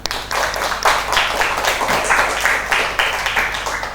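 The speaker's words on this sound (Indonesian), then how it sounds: "Berikan tepuk tangan." Students in an Indonesian classroom applaud together, a dense, steady patter of many hands clapping at close range that holds evenly for about four seconds, with faint voices mixed in beneath.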